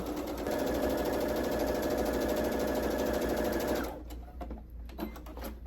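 A sewing machine stitches quilt fabric under a quarter-inch quilt foot, a fast, steady mechanical whir up close for about four seconds before stopping, followed by faint handling noises.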